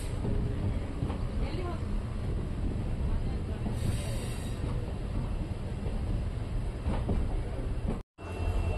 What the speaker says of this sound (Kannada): ಟ್ರೈನ್ ಬಂತು ನೋಡಿ, ಹರಿಹರದಿಂದ ಹೊಸಪೇಟೆಗೆ ಹೋಗೋ ಪ್ಯಾಸೆಂಜರ್ ಎಕ್ಸ್ಪ್ರೆಸ್ಸು.